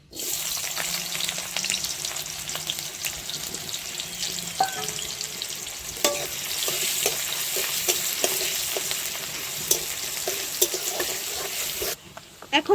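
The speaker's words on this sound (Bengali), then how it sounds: "এখন গ্রেভিটা তৈরি করে নেব সর্ষের তেল দিয়ে দিলাম দিয়ে দেবো পেঁয়াজ কুচি" Chopped onion fries in mustard oil for a Bengali prawn and pointed gourd dorma gravy, a loud, steady sizzle up close, broken by scattered spoon clinks and stirring knocks.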